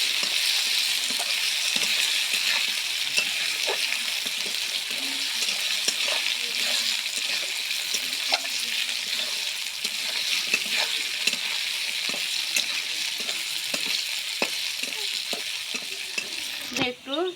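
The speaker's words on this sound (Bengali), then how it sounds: "একটু হলুদ দিব, সামান্য পরিমাণ একটু লবণ দিয়ে দেবো স্বাদ মতো। আমটা একটু কষে নেব।" Mango pieces fry in a pan with turmeric and salt, a steady broadband sizzle running throughout with frequent clicks of stirring, close and fairly loud, with no talk over it.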